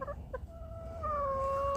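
A hen gives a few quick clucks, then a longer, drawn-out tonal call, faint, with a low background rumble.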